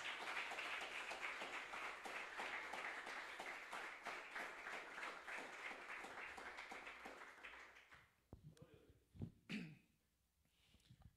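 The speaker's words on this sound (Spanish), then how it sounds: "Un aplauso fuerte a nuestro Dios." A church congregation claps in a dense, fairly quiet round of applause that holds steady for about eight seconds before fading out, followed by a few scattered coughs and small noises.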